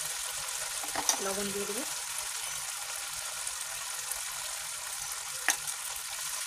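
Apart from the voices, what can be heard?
sour dish with turmeric sizzling while being sautéed in a pan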